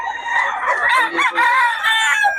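Chickens crow loudly and close by at a poultry market in Bocaue, with clucking mixed in, several overlapping calls filling the whole stretch.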